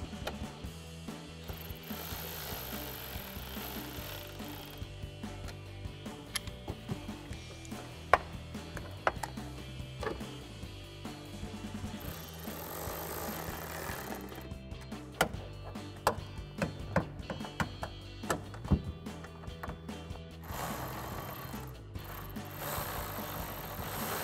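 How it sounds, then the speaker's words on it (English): Socket wrench ratcheting as an 11mm socket tightens the tail light nuts on a 2010-2014 Ford Mustang, giving faint repeated clicking bursts over a steady low background. "Now we'll go ahead and tighten them down using our 11mm socket."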